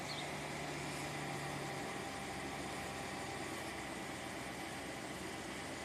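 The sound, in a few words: Ram truck engine idling after being turned on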